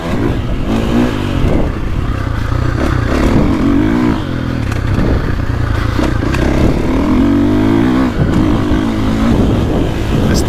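Dirt bike engine from a 2025 Honda CRF450R or 2024.5 KTM 450SXF Factory Edition motocross bike with a steel chassis, revving and accelerating loudly and steadily on flat, hard-packed dry corners, close to the microphone with throttle surges throughout.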